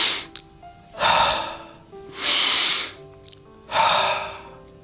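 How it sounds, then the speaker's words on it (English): Three slow, deep breaths taken up close, each a loud breathy rush followed by a quiet pause, with no talking. "Now take a few deep breaths."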